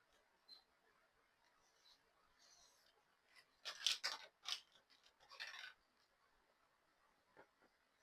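Scissors cut through skirt fabric in a few quiet, crisp snips and rasps clustered together close by, separated by near-silence.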